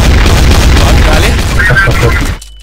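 A grenade goes off in Counter-Strike: Source, a heavy booming blast with rumbling gunfire-like crackle that stays loud for over two seconds, then cuts off abruptly into silence.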